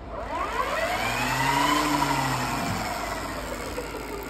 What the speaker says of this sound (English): Let me run some throttle here.